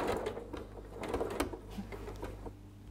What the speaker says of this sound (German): Wir steppen uns jetzt die soeben geheftete Linie von rechts knappkantig ab.